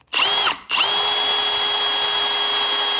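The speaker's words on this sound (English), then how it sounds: "It's a pilot drill bit, and I'm going to drill this hole first." A power drill with a sharp-pointed tapered pilot bit bores into a thick hardwood floor, spinning up loud and close, pausing briefly, then whining steadily through the rest.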